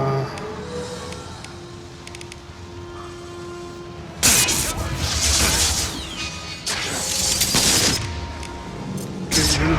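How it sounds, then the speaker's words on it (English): Bursts of enemy gunfire in the video game Mass Effect 2, loud heavy volleys that start abruptly midway and come in two or three sustained stretches, with quieter ambient game sound before them. "They're shooting from top."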